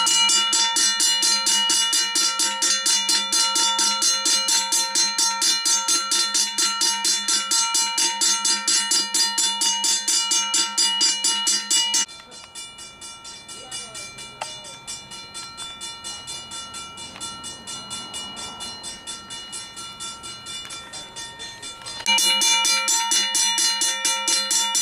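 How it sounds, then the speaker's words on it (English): A Safetran Hybrid railroad crossing bell rings in rapid, even electronic strikes, loud and close. The ringing stops for about ten seconds of quiet room noise, then starts again just as strongly. "here we go with the first bell, the Safetran Hybrid bell"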